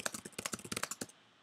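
Quick, steady typing on a computer keyboard, a brisk run of close, crisp key clicks that stops abruptly.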